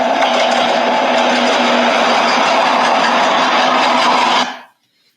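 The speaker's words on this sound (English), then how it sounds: "Now I'll show you a short video about environment impact for the all diesel train," Old diesel train passing, a loud steady broadband rumble and roar that holds evenly for about four and a half seconds before cutting off abruptly into silence.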